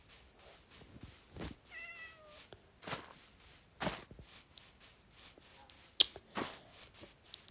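Black cat in the video game Minecraft meows a few times, with short harmonic cries amid game clicks and thumps and no talking.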